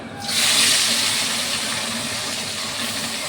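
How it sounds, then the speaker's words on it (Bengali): Cheli fish hits a hot pan with a sudden loud, steady sizzle that holds strong and even to the end, with no voices over it. "এই যে মাছটাকে ভেজে নেব।"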